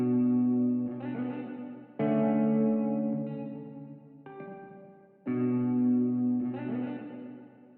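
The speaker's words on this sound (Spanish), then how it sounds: "Vamos a la reverberación quartz," Sustained harmonic synth chords wash through a Quartz mode hybrid reverb effect, each chord swelling into clear, shimmering repeats and then decaying before the next one enters.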